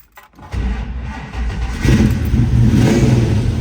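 A fuel-injected 1969 Ford Mustang Mach 1 with a 428 engine and a lumpy cam cranks and catches after a brief pause, then settles into a loud, rumbling idle and climbs with throttle blips, close up in a cold Chicago setting.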